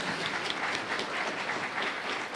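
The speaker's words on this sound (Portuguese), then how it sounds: "As palmas louvam ao Senhor mais uma vez" A Baptist church congregation claps together in praise during a Sunday service, a steady, even patter of many hands heard at moderate distance with no talking over it.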